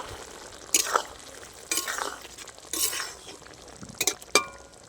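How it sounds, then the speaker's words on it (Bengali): Egg paneer curry stirred in a pan after garam masala and chopped coriander go in, with a few separate scraping strokes and light clinks of a spoon against metal over a soft background sizzle. "একটু নেড়ে নেব।"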